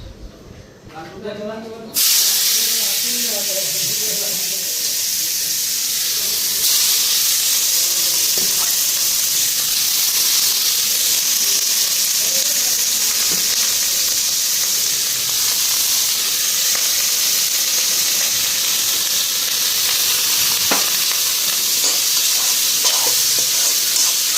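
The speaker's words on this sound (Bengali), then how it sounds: "এখন ফুলকপিটা ভাজা বসাই" Cauliflower fries in hot oil in a pan, a loud, steady sizzle and hiss that starts abruptly after a brief moment of quieter sound and continues with occasional stirring scrapes.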